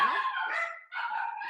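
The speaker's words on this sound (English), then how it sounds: "the dogs are having a fit right now" Dogs barking or yelping indoors in a home kitchen, a drawn-out whining bark followed by another, fairly close and clear with no talking.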